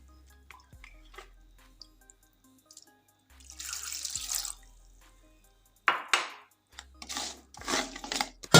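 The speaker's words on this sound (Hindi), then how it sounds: "इसमें अब मैं डाल दूँगी 2 कप पानी के, चाशनी बनाने के लिए" Water poured from a cup onto jaggery in a pot to make sugar syrup, heard as several separate splashing pours with quiet gaps and faint drips and clinks between them, close and fairly loud.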